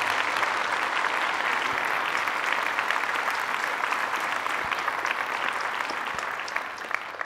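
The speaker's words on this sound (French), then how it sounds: "on peut applaudir notre conservatoire de musique" An audience in a hall at a New Year's greetings ceremony applauds the music conservatory with long, even, dense clapping that holds steady throughout before easing slightly at the end.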